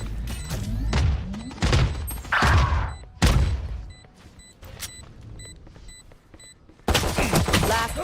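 A missile barrage fires in a video game, a rapid run of loud booming launches and thuds in bursts, with quieter gaps between volleys and a final loud salvo.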